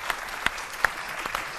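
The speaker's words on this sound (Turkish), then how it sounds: "Bir alkış alabilir miyim?" Brief burst of audience applause for a stand-up comedian in a live show, dense clapping with a few sharper individual claps standing out, close and even throughout.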